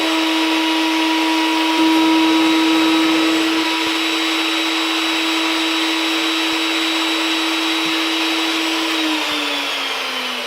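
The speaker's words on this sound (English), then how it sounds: "So I'm just using my pin router to do that because the bit cuts just awesome." A pin router on a table jig flush-trims a wooden guitar neck against a template, its loud, steady high-pitched whine running continuously up close, dipping slightly in pitch near the end.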